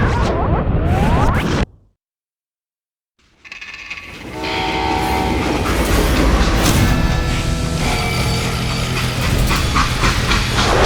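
A freight train in the Western video game Call of Juarez: Gunslinger rumbles loudly, cuts to a brief silence, then returns as a dense, steady roar of rolling wagons with hissing steam and metallic ringing tones.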